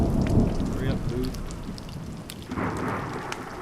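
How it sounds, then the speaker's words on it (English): Steady rain patters in a video game storm, with a low rumble of thunder rolling underneath at moderate volume and no voices over it. "Oh my god, another storm."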